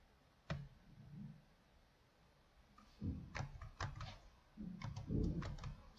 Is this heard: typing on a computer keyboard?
yes